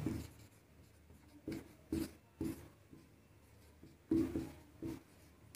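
Chalk or marker writes on a board in short scratchy strokes, a handful of quick bursts with pauses between, close and faint in a quiet room.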